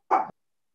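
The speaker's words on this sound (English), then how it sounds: "My dogs were barking." A single short dog bark, close and fairly loud, standing alone against silence during a virtual board meeting.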